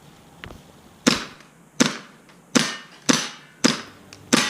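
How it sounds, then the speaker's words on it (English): Sharp, crisp shots from a KWA MP7 airsoft gun, fired on semi-auto: six separate cracks spaced roughly a second apart, each one loud and close with a short decaying tail and no voices. "Listen at the smooth sound of that MP7"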